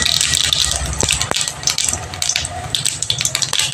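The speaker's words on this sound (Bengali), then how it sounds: "এবার প্রথমে আমি একটু জিরে ফোড়ন দিলাম, গোটা জিরে" Whole cumin seeds splutter in hot oil, a close, busy crackle of popping and rattling with a couple of sharp clicks near the start.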